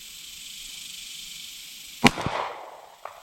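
A single sharp gunshot cracks out across a pond outdoors, fired by a shooter wearing a gas mask, after a quiet stretch of faint hiss, then a short echoing tail and a faint click.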